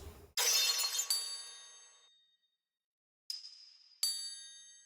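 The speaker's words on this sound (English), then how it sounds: "Then we have some drum effects, just like glass effects and sweeps." Glass-shatter drum effects from a music production: a loud crash of breaking glass with bright ringing shards decaying over about two seconds, then after a brief silence two sharper glassy hits, each with a ringing tail, heard alone with no voices.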